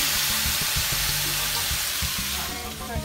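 Shrimp sizzle and fry steadily in a hot frying pan for shrimp tacos, a loud continuous hiss with faint stirring clatter and no talk.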